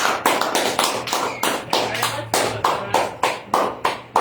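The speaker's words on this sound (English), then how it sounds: "Give the Almighty hand clap." A church congregation claps in a steady, fast unison rhythm of sharp, loud, close hand claps that keeps going without a break.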